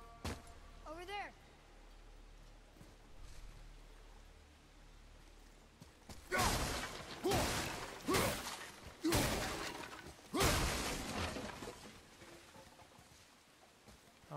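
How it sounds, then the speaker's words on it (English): Objects shatter and crash in the video game God of War, several loud breaking impacts in quick succession after a quieter stretch of game sound, with a voice talking over the action. "I like smashing shit."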